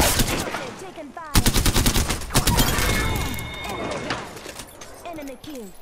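Rapid automatic gunfire bursts out in the Apex Legends video game, loud and close, with sharp repeated shots mixed with in-game voice lines and other effects.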